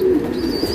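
A tournament pigeon gives a short, low coo, close and fairly loud, with a faint thin whistle above it.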